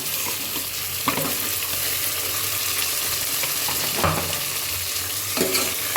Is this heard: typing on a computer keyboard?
no